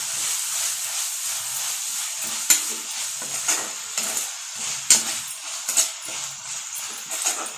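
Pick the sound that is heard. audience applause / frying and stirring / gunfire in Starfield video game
frying and stirring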